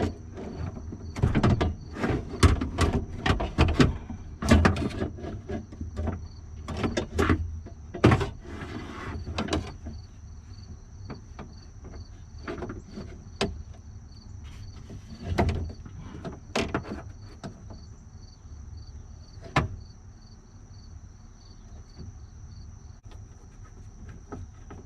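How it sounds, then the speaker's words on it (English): Window regulator being slid back into place inside a truck door: repeated close clunks, scrapes and metallic knocks in irregular bursts, busiest early, then sparser with occasional sharp knocks. "So go ahead and start sliding your window regulator back into place."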